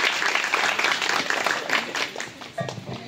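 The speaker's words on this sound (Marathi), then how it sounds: "प्लीज शेलार सरांसाठी जोरदार टाळ्या" A school reunion crowd of former students claps for a teacher taking the stage, loud and dense at first, then thinning and growing more scattered toward the end.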